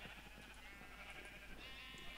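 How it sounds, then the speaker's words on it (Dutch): Minecraft sheep bleat faintly in a brief moment, a couple of wavering calls over a noisy hiss, distant and quiet. "Flink aantal groene schapen."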